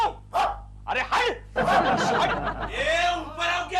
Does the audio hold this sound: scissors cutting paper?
no